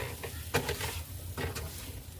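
Utensil stirring beaten eggs in a hot pan for scrambled eggs, a soft scraping with light sizzle underneath, a couple of firmer strokes standing out, close and alone.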